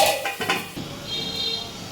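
A metal lid set onto a wok of okra simmering in mustard gravy gives a few sharp clinks and clatters in the first moment, then a softer ringing settles over quiet bubbling.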